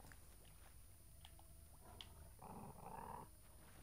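Dogs growling in the video game Witcher 3, a low rumbling snarl that swells midway and holds for about a second, faint and alone under game ambience.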